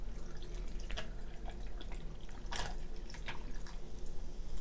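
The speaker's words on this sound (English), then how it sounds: "let me pour some of this delight into my cup" A drink is poured into a cup at a table before a baked spaghetti and salad meal. Soft, continuous liquid trickling and light splashing fill the moment, close to the microphone and fairly quiet.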